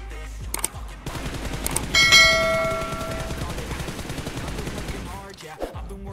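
Rapid automatic gunfire in BGMI while the shooter works to control recoil, a dense continuous burst of shots lasting several seconds with a ringing metallic overlay partway through, loud and close.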